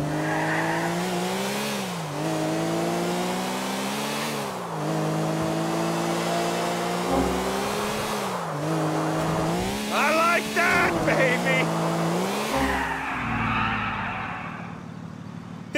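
Race car engine in GTA 4 revving loudly throughout, with pitch sweeps as it accelerates and shifts, and bursts of tire squeal near the end, a steady close roar with no break.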